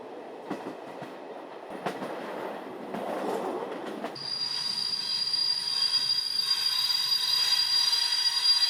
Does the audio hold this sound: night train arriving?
yes